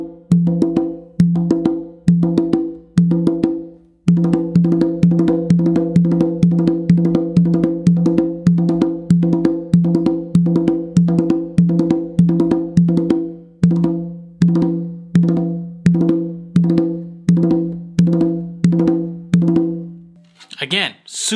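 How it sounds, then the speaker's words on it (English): Hand drumming on a tumba and conga: one open hit on the tumba, then a steady, fast run of hits on the conga in a repeating pattern, close and loud with no talk, ending with a brief noise. "I start that first hit with my dominant hand on the tumba, and then I finish the rest all on the conga"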